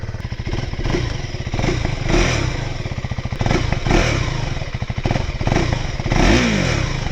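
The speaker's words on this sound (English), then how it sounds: "Let's start up the engine." KTM-engined motorcycle running after start-up, a steady close thumping idle with a brief rev near the end, loud and continuous.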